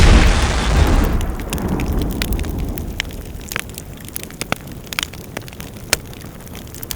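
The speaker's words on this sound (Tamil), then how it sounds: "திடீரெண்டு எங்களுக்கிட்டையும் ஒரு செல் வந்து வெடிச்சது." A shell explodes in a Tamil war film with a loud, deep boom that dies away over about a second, followed by scattered sharp cracks and pops as debris and distant rounds continue.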